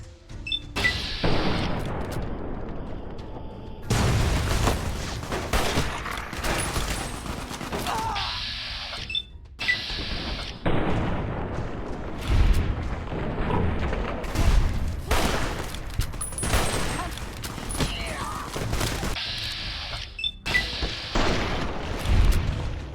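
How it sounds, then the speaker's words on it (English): Explosions and rapid gunfire from a grenade fight in modded Fallout: New Vegas keep going loud and dense for the whole stretch, with heavy booms and bursts of shots overlapping and a few brief lulls. "Just chucked a grenade."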